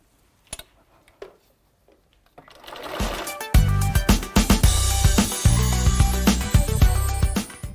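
A sewing machine stitches the final seam of a quilt, starting after a few quiet taps and then running steadily and loudly with a fast mechanical clatter for the last four seconds.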